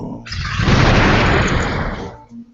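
A loud explosion sound effect bursting suddenly into a broad, roaring blast that holds for about two seconds before fading away, alone with no talk over it.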